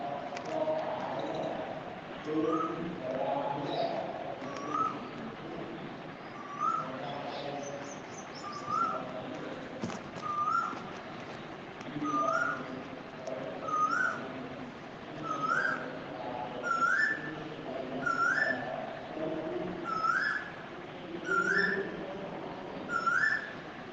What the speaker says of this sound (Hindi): कोयल का बोलना